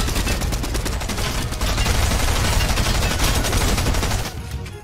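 Fortnite gunfire fills the scene with loud, rapid, continuous bursts of automatic weapon shots, a dense fusillade that stays intense throughout and fades only slightly at the end.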